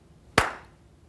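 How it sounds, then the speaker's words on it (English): A single sharp hand clap, given as a recording cue, cracks once nearby against a quiet background and fades quickly. "Stand by. Okay. Clap."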